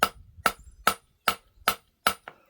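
Ringing hammer strikes on hot forged metal, six evenly spaced blows followed by a lighter rebound tap, close and loud with no one talking.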